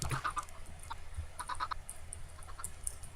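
Chicken sounds from a Minecraft coop: several short clucks and chirps in small bursts, moderately close over a quiet background, with no one talking.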